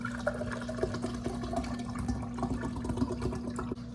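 Water runs from a kitchen tap into a container, a soft continuous splashing stream under a steady hum, with a few small knocks.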